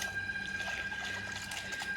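Seawater runs through a freshly dug channel into a shrimp farm, a soft continuous trickling and gurgling flow heard close up with no talk.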